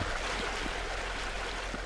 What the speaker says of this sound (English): can you turn down the water? It's really loud.